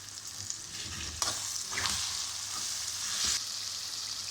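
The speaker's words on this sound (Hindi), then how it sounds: "इसको अच्छी तरह मिक्स कर लेंगे और 2 मिनट के लिए फ्राई करेंगे।" Tomatoes and spices fry in a pan with a steady sizzle, and a few brief stirring scrapes and clicks rise over it.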